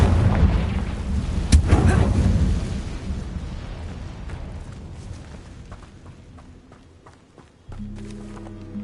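A Confringo fire spell blasts in Hogwarts Legacy, one heavy rumbling explosion near the start that slowly fades out, followed by scattered softer game sounds.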